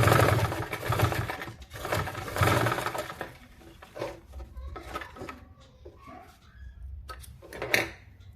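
A sewing machine runs in uneven bursts while stitching the folded fabric edge of a ladies' pant waistband, its motor hum and needle chatter fairly close, fading and resuming with handling noises toward the end.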